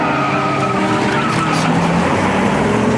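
Loud tyre screech from a car skidding during a high-speed movie chase through the streets of Bangkok, a continuous squeal over roaring engine noise with no talk.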